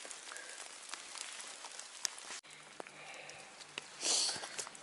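Steady rain falls on the Appalachian Trail during a spring thru-hike, a soft continuous patter with scattered drops, a brief dropout midway and a louder wash of hiss near the end.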